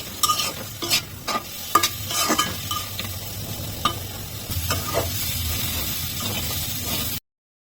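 Red lentils are stirred and fried in hot oil with turmeric in a wok, bursts of scraping spatula strokes over a continuous sizzle, loudest early on and tapering off, with no talking.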